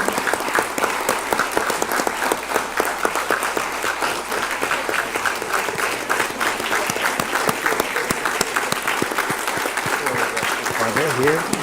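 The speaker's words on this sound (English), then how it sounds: "Let's give them a round of applause." Sustained, dense applause from a board of education meeting audience honoring school employees with over 50 years of service, loud and continuous, with voices faintly underneath.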